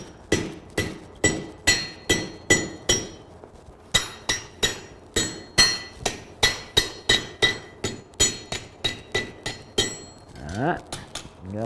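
A blacksmith hammers hot steel, half-inch stock, into a leaf hook. Loud, ringing hammer blows land in a steady rhythm with brief pauses between bursts, close by and with no talk.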